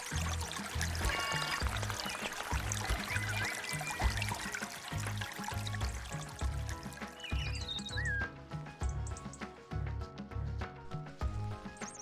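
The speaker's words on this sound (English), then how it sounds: "Water will now collect out of there." In the indie farming video game Plentiful, water flows into a fruit tree area once dams are broken, a soft continuous trickling pour under a rhythmic pulsing game music loop that drops away near the end.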